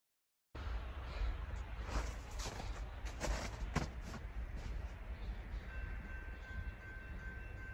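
ELS 503 freight train rolls past close by on a track near U.S. Highway 8, with a steady low rumble, rhythmic clanks of wheels over rail joints, and a thin high whine late on.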